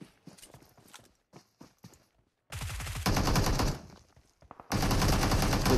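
SMG fire in PUBG Mobile, heard during a tournament match, starts as scattered clicks and short taps and then turns into long, loud, dense bursts of automatic fire with one short pause between them.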